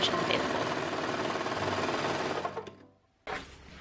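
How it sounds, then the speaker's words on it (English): A serger runs in a fast, steady mechanical whir while finishing fabric seams on a skirt, then slows and stops briefly before starting again, close and loud. "I finish my seams using my serger"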